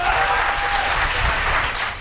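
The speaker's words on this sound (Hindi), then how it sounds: "एक बार ढंग से बजाओ तालियां" Audience applause at a comedy show fills the room, dense and steady for the full stretch, loud and close with a faint tone briefly present early on.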